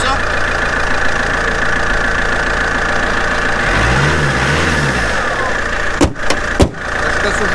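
A Mercedes-AMG E63 being started: a steady engine-like drone runs throughout, a wavering low whirr swells midway, and two sharp knocks land near the end, with faint background voices.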